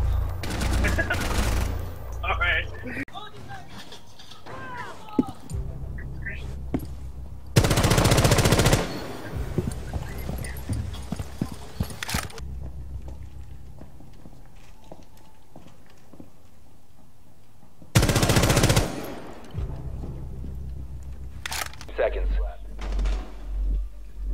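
Gunfire in the video game Rainbow Six Siege, with several loud bursts of automatic fire and scattered shots between them. A game announcer and players talk and laugh over it.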